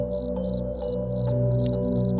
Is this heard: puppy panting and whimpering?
no